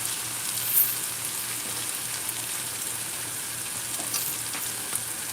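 Okra frying in a pan, a steady close sizzle with constant crackle and a faint low hum underneath, no voices.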